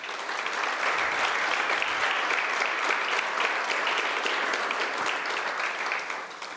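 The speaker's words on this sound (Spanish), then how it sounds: "Un fuerte aplauso." A conference audience breaks into loud, sustained applause, many hands clapping in a thick continuous wash that holds strong and then eases slightly at the end, with no speech over it.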